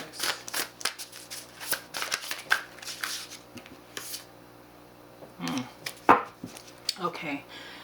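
Tarot cards are shuffled by hand in irregular riffling and slapping bursts, some crisp and close, with quieter pauses between them and a person speaking in places.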